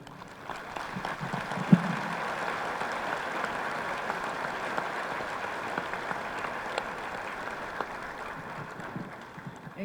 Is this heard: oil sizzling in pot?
no